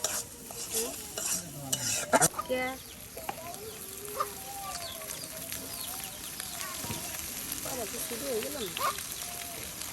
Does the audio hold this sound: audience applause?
no